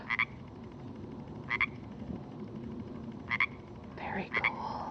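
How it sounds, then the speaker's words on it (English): Single Pacific chorus frog calling in a creek watershed, giving four short two-part croaks spaced irregularly over a steady low background of water or wind noise, fairly close and clear with no talk. "So Pacific chorus frog, just one instead of the big chorus right now."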